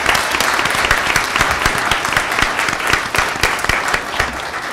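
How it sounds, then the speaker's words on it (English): A board meeting audience applauds staff members for their work, loud close clapping with distinct individual claps standing out over a dense, steady patter that fades slightly at the end. "let's give them a round of applause for their work"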